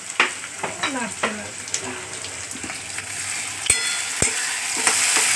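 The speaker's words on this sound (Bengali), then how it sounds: "একটু কড়াটা নেড়ে দাও" Chilli powder fries in a kadai for chicken curry, a steady close sizzle broken by scraping stirs and a few sharp metallic knocks of the spoon against the pan, with no talking.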